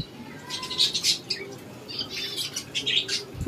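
Pigeons flutter and chirp nearby in short bursts, wings flapping repeatedly over a soft background, no one speaking.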